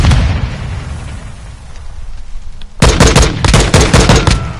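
Gunfire and explosions in a shooter video game: a steady din of distant booms and rumble, then a loud close burst of rapid automatic shots and blasts that keeps hammering to the end.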